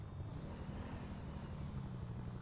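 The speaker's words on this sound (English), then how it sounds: "There's the helicopter coming overhead again." A helicopter passes overhead in the FiveM roleplay game, a steady low rotor and engine rumble holding at a moderate level throughout with no one speaking.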